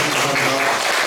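Audience applause for two monks at the close of a Buddhist lecture, a dense steady wash of clapping that stays loud and even from start to finish.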